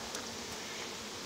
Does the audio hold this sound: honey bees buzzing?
yes